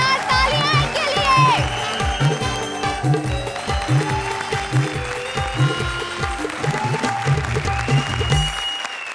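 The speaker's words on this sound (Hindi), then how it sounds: "जोरदार तालियां इनके लिए।" Studio audience on a comedy stage show applauds and cheers loudly and continuously, with a rhythmic beat of music running underneath the clapping.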